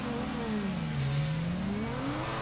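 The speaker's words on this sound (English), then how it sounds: "Rolling the throttle a little bit." A drift car's engine revving in the Torque Drift racing game, the pitch dipping and climbing again as the throttle rolls on and off in one steady, close whine.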